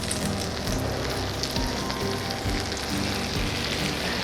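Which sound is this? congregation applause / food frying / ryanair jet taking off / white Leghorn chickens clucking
food frying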